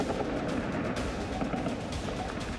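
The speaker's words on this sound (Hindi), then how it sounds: "काबुल में तालिबानी लड़ाकों ने जश्न में फायरिंग की।" Celebratory gunfire from Taliban fighters in Kabul, a dense continuous crackle of shots filling the whole stretch at steady loudness, with faint voices buried in the din.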